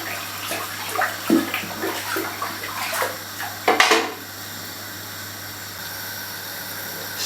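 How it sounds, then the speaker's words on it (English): Sparge water heats in a Grainfather brewing system with a close bubbling, hissing and splashing that is busy at first, then settles into a steady hiss over a low electrical hum. "What, that sparge water heating?"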